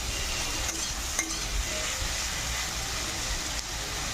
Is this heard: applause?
no